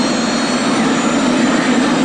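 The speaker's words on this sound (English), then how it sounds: "The pilot starts the helicopter" Helicopter engine starting up before a 1979 Guinness record stunt, a loud, steady whining roar that fills the whole moment without talk.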